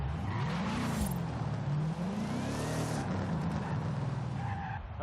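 Ford Mustang Terminator Cobra in Forza Horizon 5 drives hard, its engine note rising and dipping through gear changes over steady tire and road noise, loud and close, with no talking.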